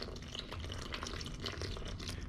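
Water poured into a bowl of flour for Detroit-style pizza dough, a soft continuous splashing trickle, quiet and close, with no voices.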